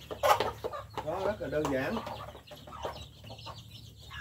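Chicks clucking at close range, short soft clucks and peeps scattered among a man's speech, fairly loud near the start, then fainter under the talk.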